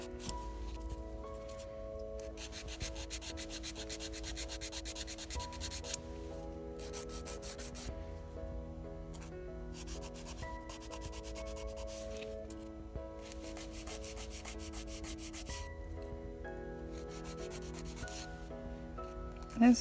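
Fingernails are filed with a coarse nail buffer in quick bursts of dry, close rasping strokes, separated by short pauses.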